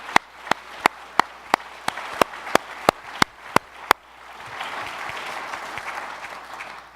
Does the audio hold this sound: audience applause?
yes